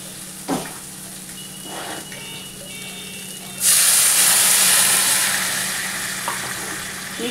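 Water from rinsing a mixer jar is poured into hot, well-fried masala for a posto kofta curry, setting off a sudden loud, steady sizzle and hiss that fades slowly after a few faint kitchen clicks.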